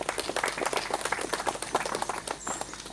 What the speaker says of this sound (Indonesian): Untuk itu kita beri aplaus dulu.